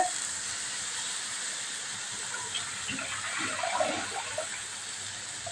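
Water poured onto washed rice in a pot while making veg pulao, a steady hissing pour with soft splashes rising toward the end, close and moderately quiet, with no talking.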